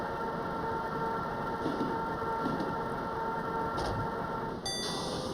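A train braking hard in a PlayDate handheld video game: a steady, dense rumbling roar with a thin high whine, constant and fairly faint throughout, ending in a brief bright electronic chime.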